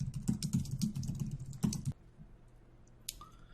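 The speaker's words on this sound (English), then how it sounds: "fast forward near the end of this typing exercise" Fast typing of code on a computer keyboard, a dense burst of close key clicks that stops abruptly, followed by near quiet with one last faint click.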